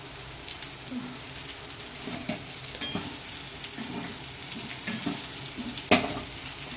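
Okra (bhindi) sizzles in a hot pan in a home kitchen, a soft continuous frying hiss broken by scattered clicks and clatters of stirring, fairly quiet and close.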